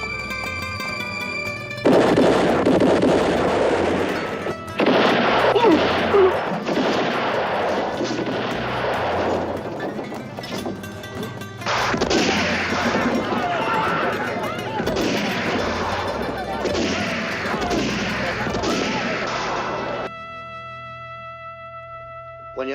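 Gunfire crackles through a spaghetti western film firefight in two long stretches of rapid, overlapping shots, loud and close, with brief tonal music before and after.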